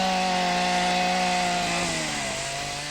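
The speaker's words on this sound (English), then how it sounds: "all rhinos, both black and white, are going under the chainsaw." A chainsaw cuts off a rhino's horn during a dehorning operation in Zimbabwe, running loud and close in one continuous drone whose pitch dips slightly toward the end as the blade bites.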